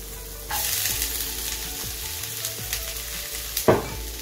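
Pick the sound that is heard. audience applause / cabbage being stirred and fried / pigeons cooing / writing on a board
cabbage being stirred and fried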